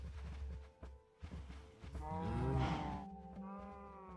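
Cows in a Minecraft mod game give several drawn-out, overlapping synthetic moos, loud and close, the longest swelling in the middle, with no talk over them.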